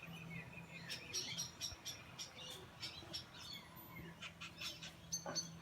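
Wild cockatoos calling outdoors while being fed, a chorus of harsh screeches and chirps repeating irregularly at moderate distance, with no talking.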